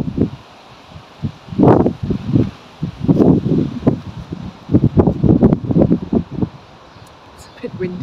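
Gusts of wind buffet the microphone in low rumbling bursts, close and irregular, with faint rustling between them.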